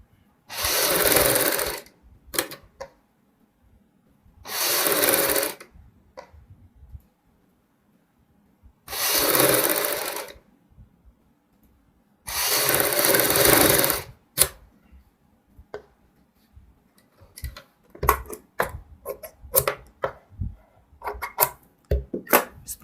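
Sewing machine sewing a foot-width seam on a baby frock lining, four loud, evenly spaced bursts of stitching with silent pauses between, followed by scattered clicks and fabric handling.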